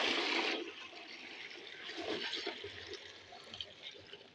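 Water gushing into a bath for a spiritual cleansing with salt, a faint rushing pour that starts strong and then settles into a softer, gurgling trickle, alone.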